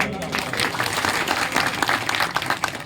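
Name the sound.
applause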